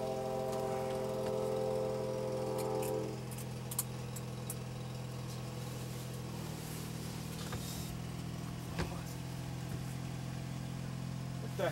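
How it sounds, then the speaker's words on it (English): A riding lawn mower, the zebra mower, runs steadily nearby with a continuous engine drone that drops in pitch partway through, then keeps rumbling on a lower, rougher note with a few faint knocks. "He's taking the zebra mower."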